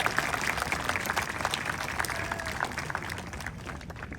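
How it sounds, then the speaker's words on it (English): An audience at an 8th grade promotion ceremony claps for teachers and staff, a dense, steady roar of applause from a sizable crowd that holds level and fades slightly toward the end. "Huge round of applause to our mission teachers and staff."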